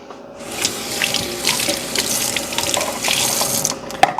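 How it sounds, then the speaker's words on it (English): Water runs steadily from a kitchen faucet as hands are rinsed under the stream, a continuous close splashing hiss lasting several seconds, with a small clunk near the end. "Now, rinse my hands a little bit."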